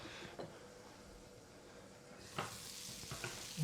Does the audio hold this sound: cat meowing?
no